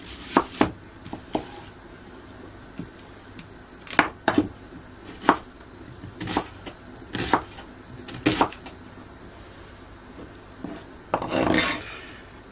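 An onion is chopped with a knife on a board: sharp, close taps land one by one at an irregular pace, ending in a short scraping sweep.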